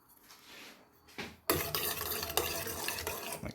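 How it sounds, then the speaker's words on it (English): Food is stirred briskly in a pan on the stove in a quick vegan high-protein meal with coriander, a loud continuous scraping and sizzling that starts abruptly after a couple of faint scrapes. "Then I just give it a brisk stir."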